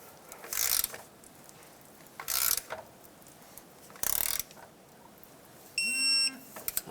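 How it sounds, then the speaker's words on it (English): A torque wrench tightens control arm bolts on a 2009-2014 Ford F-150 during a leveling kit install, giving three short, close ratcheting bursts a couple of seconds apart, then a brief buzzing tone near the end. "let's torque these to 30 foot-pounds, which is the factory torque specs"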